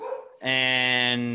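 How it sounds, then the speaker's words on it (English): A dog gives one sustained, loud, whining bark-like cry close by indoors, following a brief moment of someone talking. "sorry, that's the dog."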